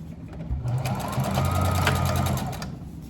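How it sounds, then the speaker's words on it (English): A sewing machine runs in a steady, fast mechanical whir of stitching, close and continuous for a few seconds after a brief start. "I gotta pull up the sewing machine"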